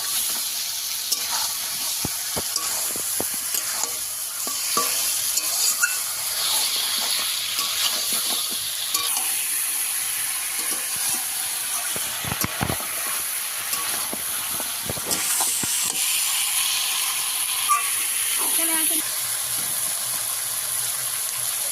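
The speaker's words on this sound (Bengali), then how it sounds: "কষিয়ে কষিয়ে এই মাছটা আমি রান্না করবো" Salted pieces of cut fish sautéing in a pan for a kosha-style curry, a loud continuous sizzle with scattered clicks and scrapes of stirring across the whole stretch, no voices.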